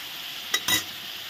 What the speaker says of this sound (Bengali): এখন মাছটা ভেজে নিচ্ছি